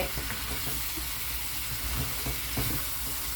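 String beans frying in a hot pan crackle and sizzle up close, with a few soft stirring scrapes and bumps breaking through the steady hiss.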